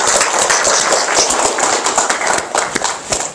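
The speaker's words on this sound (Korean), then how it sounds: "박수로 보내주시면" Dense, steady applause from an audience at the launch ceremony of a Korean Peninsula research institute, many hands clapping continuously for a few seconds without a break.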